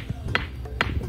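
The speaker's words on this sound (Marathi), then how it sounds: "आपल्याला साध्या दगडावर असा आवाज येतो" An ordinary stone is struck with another stone at Khanderi sea fort, giving two dull, short knocks close by with faint background noise between them.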